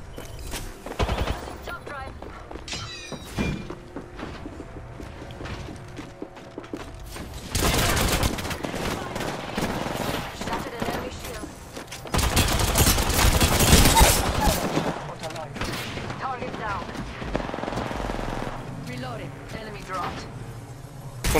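Rapid automatic gunfire from an Apex Legends match during the final ring, with sustained bursts of shots in several dense stretches and a player talking between them.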